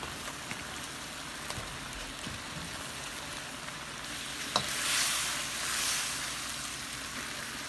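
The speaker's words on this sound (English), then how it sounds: "We're going to go ahead and put our beef back into the pot." Beef is returned to a pot of thickened cornstarch sauce and stirred, giving a steady sizzle that swells into louder hissing and bubbling with a sharp clatter midway; no one speaks.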